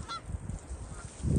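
Canada geese honk repeatedly at close range in a hunting setting, a steady run of nasal calls with wind noise underneath.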